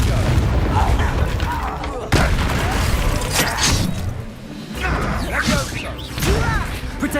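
Confringo fire spell explosions in Hogwarts Legacy, with repeated booming blasts and crashing impacts in a busy, loud battle while voices shout over the fighting.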